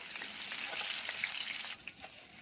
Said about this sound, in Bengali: রসুনটাকে আমি একটু হালকা ভেজে নেব